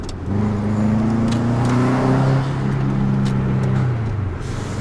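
A car engine drones nearby on a road as another vehicle pulls out in front, steady and moderately loud for several seconds with no one speaking.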